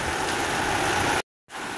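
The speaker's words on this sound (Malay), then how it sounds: "Hujan dah turun kat Cik Din ni" Rain falls steadily outdoors in a continuous hissing wash, fairly loud and even, with a brief cut to silence before the patter returns.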